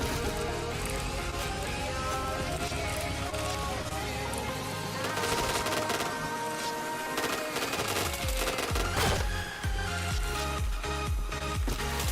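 Rapid automatic gunfire bursts from a shooting video game, loud and dense, layered with game music and effects and continuing almost without pause.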